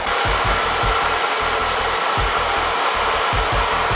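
A hair dryer fitted with a diffuser blows on curly hair, giving a loud, steady whooshing roar close by with a faint pulsing in the low hum and no talking.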